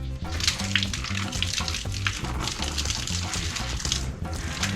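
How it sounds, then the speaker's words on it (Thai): Water pours steadily into a large 4-metre inflatable backyard pool, a continuous rushing, splashing flow heard close and loud throughout, with no one talking. "เดี๋ยวเรามาใส่น้ำกันครับ"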